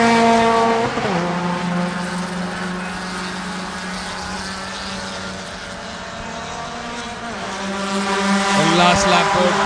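Race cars in the final lap of a 10-lap Indian National Car Racing Championship grand finale drone past, engines fading down and swelling back up near the end, with a commentator talking over the whole pass.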